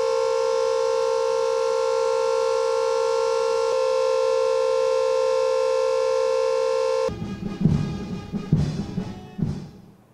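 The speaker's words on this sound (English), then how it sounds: "a 1-minute siren was also played in showing respect to the late leader" A civil defense siren sounds a steady, unbroken tone played in tribute at a memorial event for a late leader, holding level for about seven seconds before it cuts off into a muffled clatter of movement.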